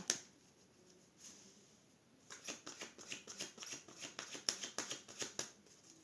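A tarot deck being cut and shuffled, a quiet pause and then a quick run of soft, close card flicks and riffles with no voices.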